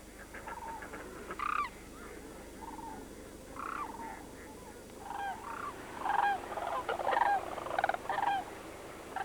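Sandhill cranes call at a stopover refuge in Monte Vista, their rolling, bugling notes coming in repeated bursts at moderate distance, some louder and overlapping, over a steady wash of background flock noise.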